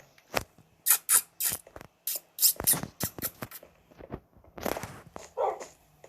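A dog moves about with a series of short sharp sounds, scattered irregular barks or yips mixed with footsteps, fairly close and moderately quiet, with no talking.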